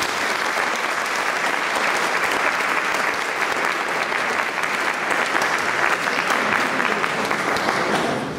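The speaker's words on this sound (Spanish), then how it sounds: "Un aplauso, por favor." At a music awards ceremony, a large audience applauds loudly and steadily for a singer. The clapping is a dense, continuous roar that holds for several seconds and fades slightly at the end.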